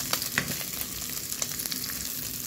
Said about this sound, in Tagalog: So, ano muna natin, fry yung ating hotdog.